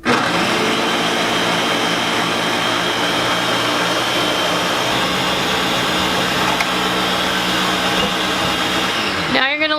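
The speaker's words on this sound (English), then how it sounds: "you wanna turn your blender down to low, and then we're going to slowly incorporate this hot milk into the blender." A blender runs on low while hot milk is slowly mixed in, a loud, steady motor whir with no voices, the sound winding down right at the end.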